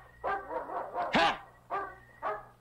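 Dogs bark in a short run of loud, close yaps and woofs, with one higher yelping bark in the middle, set in a Filipino film scene.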